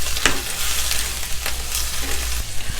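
Marinated pork hits very hot oil in a wok for a Hong Kong-style rad na dish, giving a steady loud sizzle with a few sharper crackles and stirring scrapes, and no talking.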